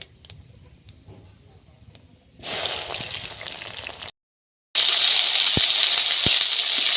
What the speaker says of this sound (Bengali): তেল গরম হয়ে গেছে আমি এখন পাঁচফোড়ন দিয়ে দিব